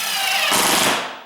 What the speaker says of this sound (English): I like this impact drill.